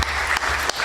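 Audience applause at a spoken word awards and recognition ceremony in Trinidad, a dense steady wash of many hands clapping at close range, continuous through the moment with no voices over it.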